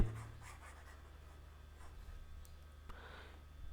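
A pen or marker writing out a physics solution on electric fields, producing soft, intermittent scratching strokes over a low background hum, fairly faint and with no speech.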